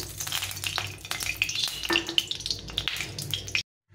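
Chillies crackle and sizzle in hot mustard oil, with a scraping spatula and light metallic taps against the pan, close by, then sudden silence.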